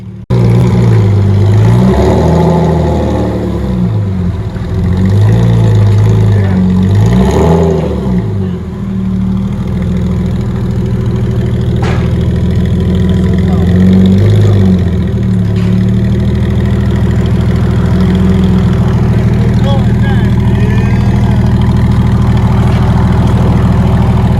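A 1999 Porsche Boxster with straight-piped dual exhaust idles loudly and close by, its steady rumble broken by several sharp throttle blips that rise and fall, with a few faint voices in the background.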